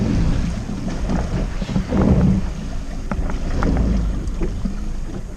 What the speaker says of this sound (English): I thought maybe the wind was dying down a little bit, but it is coming back pretty strong.